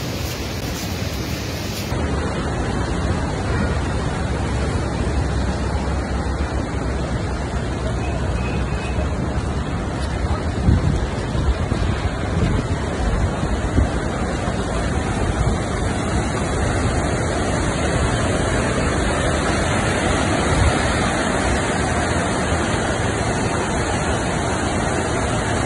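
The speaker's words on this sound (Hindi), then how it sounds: "उत्तराखंड में पिछले कई दिनों से भारी बारिश जारी है" Heavy rain pouring in Uttarakhand, a dense continuous roar of broadband noise, loud and steady throughout with no clear breaks.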